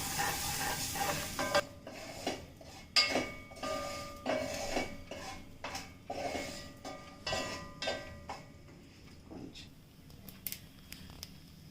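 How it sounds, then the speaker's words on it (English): A spoon stirs pongal tempering of cashews and hing frying in oil in a pan, giving repeated scraping and clinking strokes over a steady sizzle, close and moderately loud. "Give it a mix."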